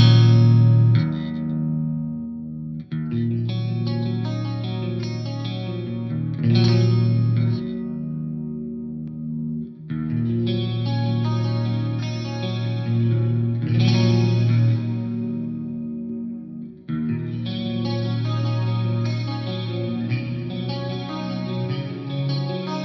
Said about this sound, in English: So I'll start with a clean sound, chorus, reverb, and then extra grease on top.